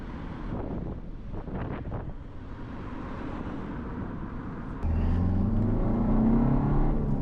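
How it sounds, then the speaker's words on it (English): A 2014 Ford Fiesta TDCi diesel hatchback drives on back roads, its engine and road rumble steady and close with wind buffeting, growing louder and rougher partway through as it pulls harder. "I do actually quite like how responsive the engine is for a diesel"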